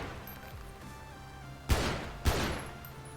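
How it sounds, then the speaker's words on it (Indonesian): Two sharp combat pistol shots from a FiveM sound pack for the video game, about half a second apart, loud and close with brief ringing tails over a faint steady background. "itu suara combat pistol"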